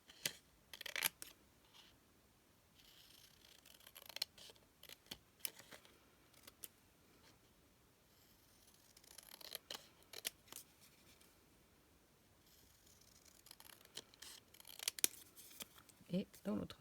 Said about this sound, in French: je vais découper mes petits carrés. Tout simplement, hein, avec une paire de ciseaux.